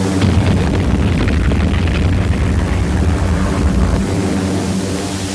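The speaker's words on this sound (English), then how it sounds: "The Japanese invasion troops gained a slim foothold, but were hit hard by U.S." Explosions from U.S. bombers strike a Japanese beachhead in New Guinea during the Pacific war, a dense, continuous rumbling roar of blasts and aircraft noise, loud and unbroken throughout.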